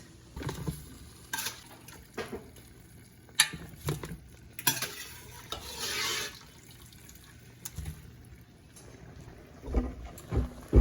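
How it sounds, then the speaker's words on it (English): Seafood-boil corn with mussels, shrimp and crab is lifted out of a pot, giving scattered clanks of utensils against metal, wet splashes and sloshing water, intermittent and moderately close, with no talking. "I'm gonna take the corn and everything out the pot"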